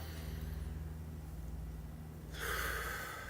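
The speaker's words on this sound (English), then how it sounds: "Another deep breath." A single deep breath drawn in through the nose, starting soft and swelling into a louder, airy rush toward the end.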